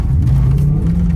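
BMW S65 V8 swapped into a 1M Coupe, revving with a steady loud low engine drone whose pitch climbs slightly near the end, close and continuous.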